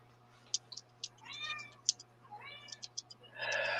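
Cats meow twice indoors, moderately near, amid scattered clicking and a steady low hum, with a burst of rustling noise at the end.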